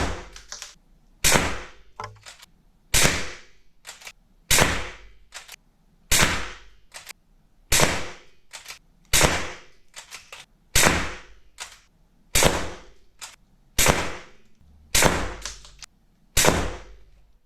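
Cal. 5.5 mm Cellcon MX10S air rifle firing JSB Diabolo Match pellets (0.89 g): about twelve sharp cracks in a steady rhythm roughly every 1.5 s, each with a short ringing tail, loud and close with no talk.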